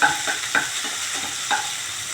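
Coriander leaves being sautéed and stirred into Bombay chutney in a pan: a close, continuous soft sizzle with a few brief scraping strokes of a spoon, and no voices.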